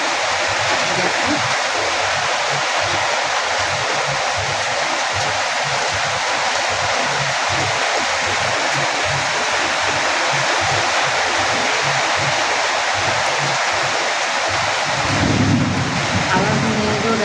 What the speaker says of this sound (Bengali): দেখো বৃষ্টি পড়ছে, দেখছো বৃষ্টি পড়ছে